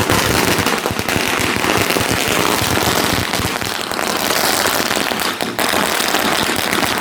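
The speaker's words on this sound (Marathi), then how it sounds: "फटाक्या वाजून झाल्या" Rapid, dense crackling bursts of firecrackers going off continuously after a cricket tournament, loud and close, with sharp pops layered over a constant sputter.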